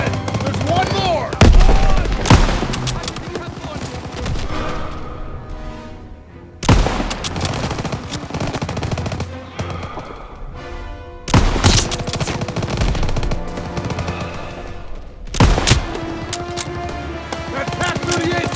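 Dense Call of Duty WWII gunfire: sustained machine-gun and rifle fusillades with sharp loud bursts recurring every few seconds during a World War II tank battle, shouted commands mixed in over the continuous shooting.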